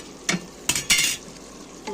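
Meat frying in a pot, with a low sizzle broken by several sharp metal spoon scrapes and clanks from stirring, close-up with no talking.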